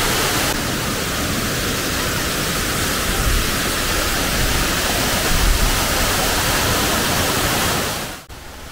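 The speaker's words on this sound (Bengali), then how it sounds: "বেশ কিছুক্ষণ বামনি ঝর্ণার চঞ্চল রূপ উপভোগ করার পর" Bamni waterfall at Ajodhya Pahar in Purulia roars steadily, a dense broadband rush of falling water heard up close and loud, unbroken for the whole stretch before a brief dip at the end.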